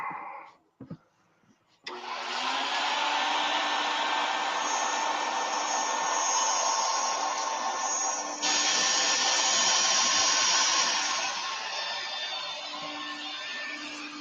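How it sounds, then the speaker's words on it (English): A power sander works a round wooden piece with 100 grit paper: a brief knock, then a loud steady high whir that runs continuously for about twelve seconds at close range, shifting slightly in pitch partway through. "now we can sand it out."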